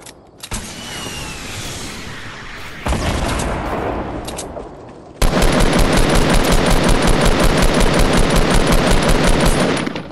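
Rapid automatic gunfire in a video game, a loud sustained burst of evenly spaced shots near the end after rougher bursts of fire, close and dominant with no voices.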